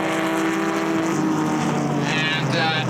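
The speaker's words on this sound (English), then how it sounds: "So this is the final lap, and John Nash has led throughout most of it." Vintage race cars at Mid-Ohio on the final lap of an SVRA race, engines droning steadily at a distance with a passing whine rising near the end, under a commentator's voice.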